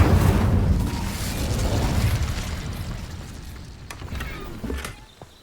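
An Incendio fire spell striking rocks in Hogwarts Legacy, heard as a loud roaring explosive burst that rumbles and crackles, fading over several seconds with a few small pops near the end.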